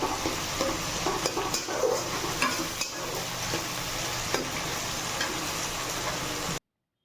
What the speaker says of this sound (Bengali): নেড়ে নেড়ে পেঁয়াজটাকে ব্রাউনিশ কালারে ভেজে নেবেন